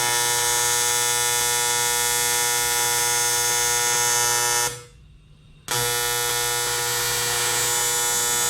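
TIG welding aluminum intercooler pipes for a Supra produces a loud steady electric buzz with a hum. It cuts out abruptly for about a second, then resumes at the same level with no talk.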